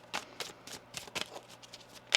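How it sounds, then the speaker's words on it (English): Tarot cards are shuffled in quick riffling bursts, several short papery flurries spaced irregularly, close and fairly quiet with no talking. "One more shuffle."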